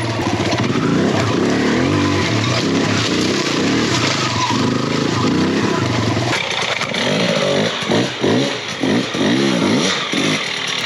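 A new enduro dirt bike, being broken in on a dusty trail, drones loudly and continuously, its engine note rising and falling with throttle changes and turning choppier and more irregular partway through.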